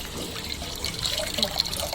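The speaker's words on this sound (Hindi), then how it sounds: "पानी इसमें ऐड करेंगे हम।" Cold water from a cooler splashes and trickles into a jug in a home kitchen, a brief close pouring sound with light bubbling and higher splashy droplets, no talking.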